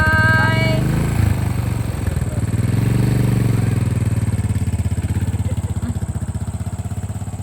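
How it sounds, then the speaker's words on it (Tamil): A Royal Enfield Bullet motorcycle engine, close and loud, with a steady low thumping beat that rises and falls as it is revved, its pulses growing more distinct toward the end, with a brief voice near the start. "புல்லட் முறுக்குன்றான்."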